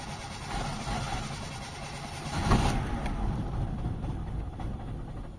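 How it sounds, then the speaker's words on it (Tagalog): A Mitsubishi Lancer's 4G13 engine, weak and lacking power, turns over and catches, then runs with a steady rumbling idle, close and fairly loud. "start tayo ng makina"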